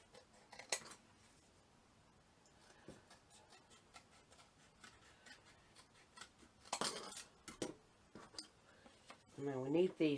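Scissors snip through paper craft pieces for a Christmas village model, a few sharp close cuts scattered over quiet room tone, ending with someone speaking.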